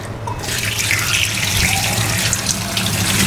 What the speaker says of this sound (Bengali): তো এইভাবে গ্রেড করে এখন আমি এটাকে ধুয়ে নিচ্ছি